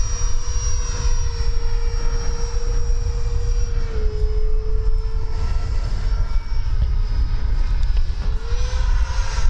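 Freewing F/A-18C 90mm electric ducted-fan RC jet flying at full throttle: a loud, steady whine with a high sustained tone that shifts slightly in pitch as the model passes, over a constant roaring rush.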